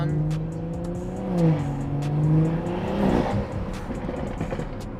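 A car with a loud new aftermarket exhaust on a BMW B58 engine and carbon tips burbling at idle and rising in a few throaty revs, rumbling close by with a faint voice in the background.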